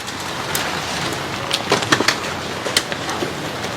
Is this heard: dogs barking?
no